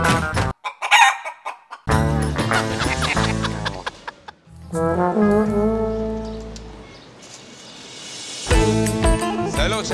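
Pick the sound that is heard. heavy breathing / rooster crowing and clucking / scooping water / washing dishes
rooster crowing and clucking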